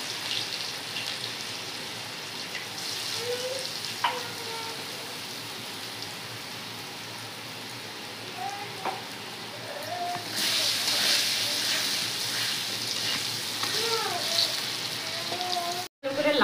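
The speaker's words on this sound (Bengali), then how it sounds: "আলুটা খুব ভালো করে লাল লাল করে ভেজে নেবো" Potatoes frying in hot oil in a pan with a steady rain-like hiss and crackle, brightening partway through, while a faint voice murmurs at times in the background.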